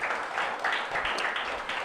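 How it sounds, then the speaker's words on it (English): Audience applause at a mayoral career program launch event honoring a council member, a steady moderate patter of clapping hands throughout, slightly distant. "Please give her a round of applause."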